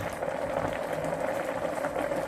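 Broth for termite mushroom curry boiling in a pot, a steady, dense bubbling and gurgling rolling on without pause, close and moderately loud with no talk over it.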